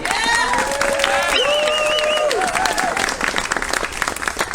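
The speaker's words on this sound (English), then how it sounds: "Round of applause, please." An audience applauds at a press conference on repealing Bill 36 in British Columbia, a steady wash of clapping with cheering and a couple of rising whoops over it, lasting several seconds.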